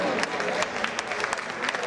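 Brief, steady applause from an audience at a singing show, a dense patter of clapping heard close and moderately loud, with voices faintly mixed in.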